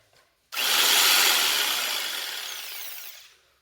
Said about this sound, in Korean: 직소기 이용해서 이제 잘라 볼 거예요